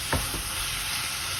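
Chopped onions sizzle softly in a pan with little liquid for a Greek spaghetti with minced meat, a steady quiet fry with one short scrape of a stirring utensil near the start.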